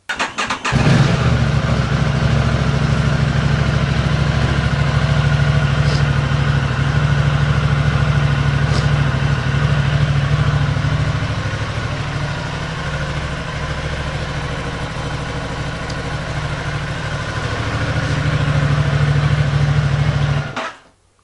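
An Aprilia RS 660 motorcycle engine cranks and catches, then settles into a steady, close idle that runs throughout, dipping slightly in the middle before picking back up and cutting off at the end.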